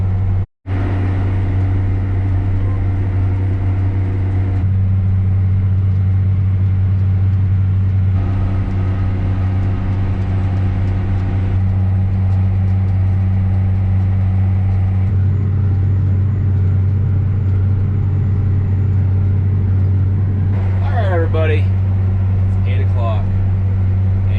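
A tractor tills a farm field, its engine a loud, steady, low drone that runs unbroken and close throughout, with a brief sharp knock near the start.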